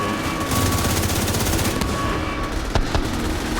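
Sustained automatic gunfire aimed at security drones in The Division 2, a dense, loud, continuous rattle of rapid shots with no pauses and no talking.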